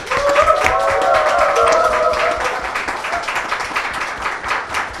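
A studio audience at a Korean political talk show applauds with a dense burst of clapping and a few cheering tones at first, then a lighter patter of claps.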